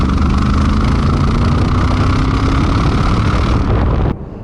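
A 2007 Mercedes SLR McLaren Roadster engine roars steadily through chrome double side pipes, loud and close under heavy wind rush while driving, then cuts away abruptly near the end.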